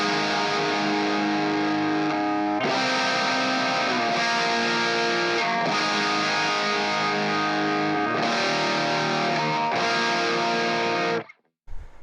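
A distorted electric guitar holds out sustained overdriven chords in the verse of a song, played alone with the top two open strings ringing and changing chord every couple of seconds before cutting off at the end.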